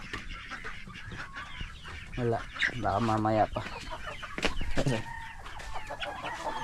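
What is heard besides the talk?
chickens clucking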